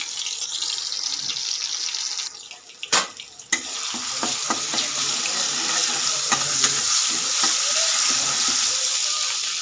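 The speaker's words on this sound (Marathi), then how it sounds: "हे बघा लसणाची पेस्ट टाकलेली थोडंसं लालसर होऊ देणार आहे" Garlic paste frying in hot oil in a home kitchen pan, a steady broad sizzle throughout with a few sharp clatters and stirring knocks near the start, close and fairly loud with no talking.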